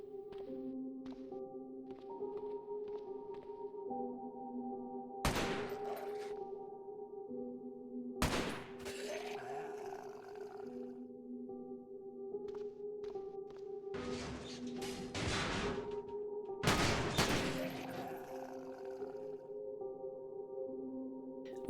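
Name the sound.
AK rifle gunfire shooting zombies in Cataclysm: Dark Days Ahead video game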